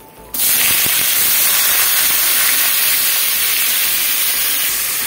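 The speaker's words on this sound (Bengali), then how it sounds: "তেল গরম হয়ে গেছে, এবার দিয়ে দিচ্ছি চিচিঙ্গাগুলো।" Pieces of salted snake gourd hit hot oil already tempered with dried red chilli and black cumin, bursting into a loud, steady hiss of sizzling that starts abruptly and holds strong throughout.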